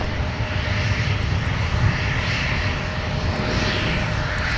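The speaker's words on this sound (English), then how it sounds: "That propeller aircraft that we are hearing in the background is Marvin Windows taxiing by on Whiskey to 17" Propeller aircraft taxiing past on a taxiway at Minneapolis–St. Paul airport, a steady, continuous engine drone with broadband rumble and a faint tonal whine, heard from a moderate distance with no talk.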